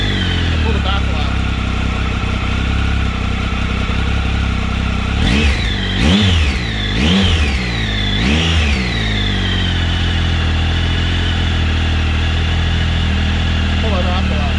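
Triumph Tiger Explorer motorcycle fitted with a Scorpion Serket parallel slip-on exhaust, idling steadily, then revved sharply four times in quick succession before settling back to idle, loud and close.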